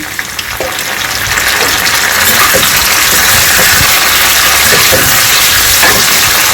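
Tomatoes fry in a hot pan for a South Indian red kaara chutney, giving a loud, steady sizzle with occasional stirring clicks throughout.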